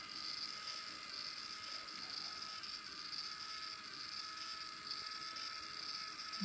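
A small electric motor driven by Arduino speed control whirs at a steady high pitch, a constant faint buzzing hum throughout.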